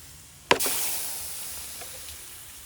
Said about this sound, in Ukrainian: В цю трубу хочу вляти води, подивитися, як вона, дивіться, як вона почала парувати.